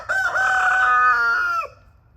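A free-ranging rooster crows once outdoors in the rain, a loud, close, sustained cock-a-doodle-doo lasting about a second and a half before fading into quiet.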